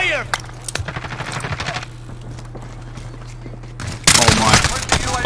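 Rapid automatic gunfire crackles in Call of Duty Modern Warfare multiplayer, a burst of sharp shots over a steady low hum, then a louder, dense volley near the end, close and intense.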